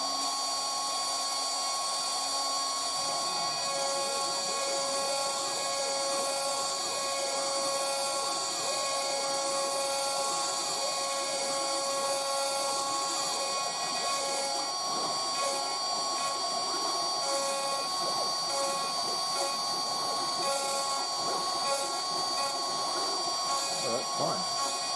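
A DIY CNC router spindle spins at 18,000 RPM while cutting MDF, giving a steady high-pitched whine with a continuous cutting rasp that stays loud and close throughout.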